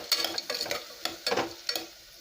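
Potatoes stirred and sautéed with tomato and onion in a pan for potato gravy, a soft sizzle under several scraping strokes of a spoon at an uneven pace, close and fairly quiet.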